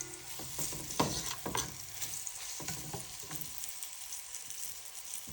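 Blue Mountain curry powder sautéing in a pot on low heat for Jamaican curried oxtail, a soft sizzle with a few scraping stirs early on, then a quieter steady hiss, no speech.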